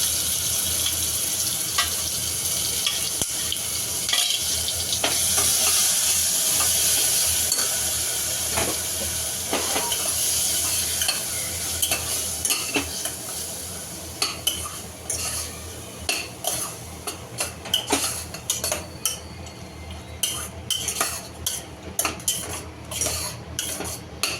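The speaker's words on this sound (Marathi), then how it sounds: "आपलं जे वाटण आहे ते परतून घ्यायचं छान।" Garlic spice paste sautés in a pan for green peas rice, a soft steady sizzle broken by repeated scraping and clinking of a metal spoon against the pan that grows busier toward the end.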